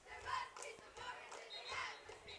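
Fans chant at a high school basketball tournament in Gatlinburg, TCA Eagles of Blountville, Tennessee against Lighthouse. Steady massed voices swell in repeated bursts, with some indoor chatter mixed in.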